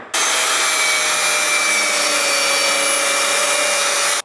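Steady, loud metal-cutting whine with a faint high tone, part of fabrication work on a Land Rover Defender, running close and unbroken for about four seconds with no talking.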